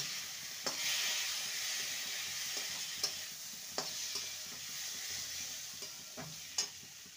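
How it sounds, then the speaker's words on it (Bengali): Washed moong dal sautéing with spices in a pan, a soft continuous sizzle broken by occasional knocks and scrapes of the stirring spoon, fairly quiet and close. "ভালো করে মশলার সাথে ডালটাকে কষিয়ে নেব।"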